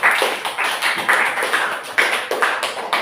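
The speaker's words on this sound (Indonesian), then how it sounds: "Kita beri tepuk tangan untuk kelompok 1, 2," Applause for presenting student groups in a classroom: a small group clapping in quick, uneven bursts, close and fairly loud, continuing steadily for a few seconds with no talking over it.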